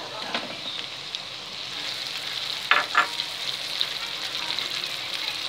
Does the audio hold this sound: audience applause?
no